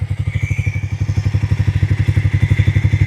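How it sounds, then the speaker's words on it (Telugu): A Harley-Davidson X440 T motorcycle engine idles with a deep, loping exhaust thump, steady and rhythmic, close up with no talking. "హార్లే ఒక ఎగ్జాస్ట్ నోట్ అనేది డిఫరెంట్ మ్యాన్"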